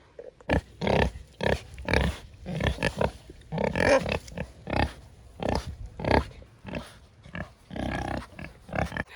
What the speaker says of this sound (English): I'm gonna have to walk a little ways away from the pigs because they get loud.